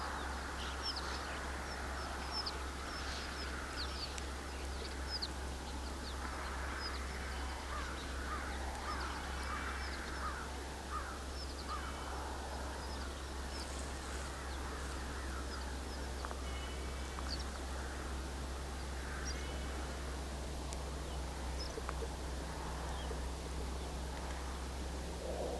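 A flock of snow buntings calls in repeated short chirps and twitters, fairly distant over a steady low outdoor rumble, with the calls coming in scattered bursts throughout.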